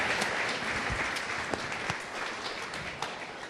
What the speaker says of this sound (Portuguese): Vamos dar uma salva de palmas para os nossos irmãos